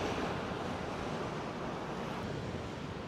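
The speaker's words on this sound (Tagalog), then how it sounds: "Ang lakas ng alon dito, oh." Strong ocean waves crash against rock formations on the Taiwan coast, a steady, roaring wash of surf with wind noise buffeting the microphone and no talking.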